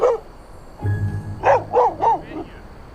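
A dog gives several short barks and yips in a quick run, close and fairly loud, after a brief low rumble of movement.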